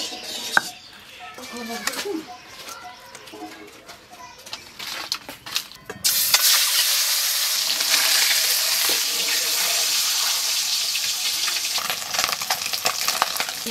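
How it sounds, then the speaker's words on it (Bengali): Pointed gourd (parwal) frying in oil in a pan: after a few seconds of quieter kitchen clatter and voices, a loud steady sizzle takes over and continues strongly, with children's voices faintly in the background. "ওই তেলেই পটল ভেজে"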